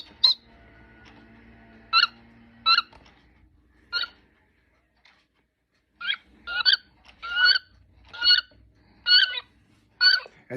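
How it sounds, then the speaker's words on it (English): Wood duck call played from a Wild Gamebirds of North America bird clock: a series of short, squeaky rising whistles repeated in irregular bursts, fairly close and clear, with a faint electronic hum early on. "9 o'clock is the wood duck."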